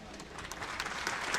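Audience applause at a Tamil film audio launch for Thoongavanam, a dense, steady clatter of many clapping hands filling the hall at moderate loudness, with no voices over it.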